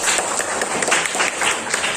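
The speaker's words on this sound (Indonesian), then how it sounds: "tepuk tangan kita semuanya" An audience in a classroom bursts into brisk, loud applause, many hands clapping together in a dense, steady patter for the whole moment, with faint voices underneath.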